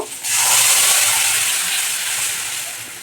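Boiled lentils poured onto hot fried spices of cumin, ginger paste and turmeric set off a sudden, loud, hissing sizzle that holds steady and fades only slightly over three seconds, with no talking.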